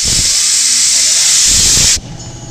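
A Volvo fuel injector wired straight to a battery sprays during cleaning, giving a loud, close, continuous hiss that cuts off sharply after about two seconds, with a voice speaking beneath it.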